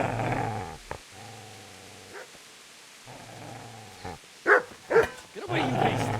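A dog in the medieval game Kingdom Come: Deliverance growls low in two sustained rumbles, then breaks into a few sharp snarling barks, close and fairly loud.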